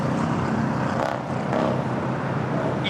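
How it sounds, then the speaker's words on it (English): An Airbus A320 taking off at Los Angeles International Airport, a steady, loud engine roar with broad rumbling noise that holds throughout. "Pilates 7839 taking off to Zacatecas on the Airbus 320"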